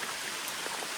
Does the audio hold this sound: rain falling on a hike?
yes